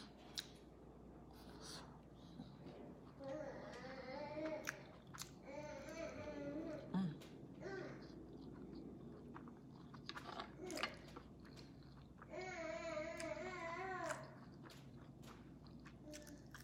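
Raw cucumber being bitten and chewed close to the microphone, soft crunchy, wet bites and mouth sounds in a quiet room, with quiet murmured voice sounds in between.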